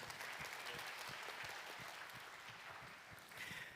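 A church congregation applauds during a worship service, a steady dense wash of clapping from many hands that holds evenly throughout at moderate level.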